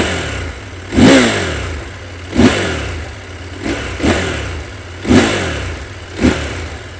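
A CFMOTO 1000MT-X motorcycle engine idles with a steady low burble and is blipped sharply six times in a row, each rev a brief loud roar falling quickly back to idle, close up with no talking.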